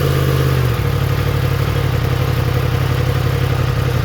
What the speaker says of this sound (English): I probably should fire the bike up.